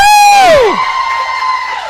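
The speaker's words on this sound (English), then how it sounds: "Clap your hands for chocolate ice cream" A loud crowd cheers and whoops, with a high voice sweeping downward before the noise settles into a sustained cheer.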